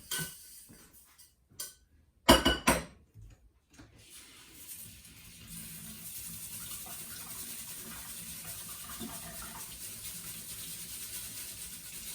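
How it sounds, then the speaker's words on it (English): Basmati rice being rinsed under a running kitchen tap, starting with a few short splashes and handling sounds, then settling into a steady close stream of water that runs on alone without talk. "let me rinse it actually really quickly"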